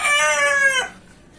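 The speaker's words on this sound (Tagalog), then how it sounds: "ikaw manok ka, tumilaw ka agad." A rooster crows once close by, a loud, bright call held for most of a second before breaking off sharply into near silence.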